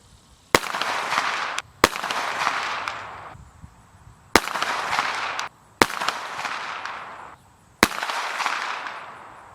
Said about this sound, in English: Another 5 rounds, 124 grain gold dot shot at 50 yards.